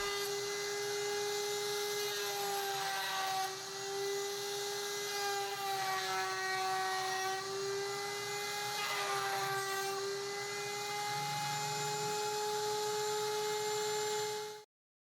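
A power router whines steadily at high speed for about fifteen seconds while beveling the edges of a wooden block, its pitch dipping slightly as it cuts, then cuts off abruptly.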